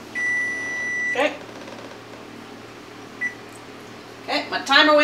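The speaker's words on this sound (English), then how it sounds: "my timer went off" A kitchen timer on an older convection oven sounds short electronic beeps, one burst early and a cluster near the end, under quiet room tone and occasional speech.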